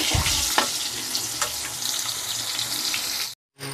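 Pointed gourd fries in hot oil in a wok, giving a steady close sizzle with occasional crackles and stirring, which cuts off abruptly near the end.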